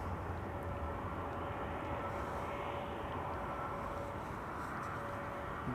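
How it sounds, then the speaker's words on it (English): Air Serbia Embraer 190 jet lined up at the runway threshold at Amsterdam Schiphol Airport, a steady broad engine roar with a faint whine, constant and fairly distant, with no voices. "Embraer 190."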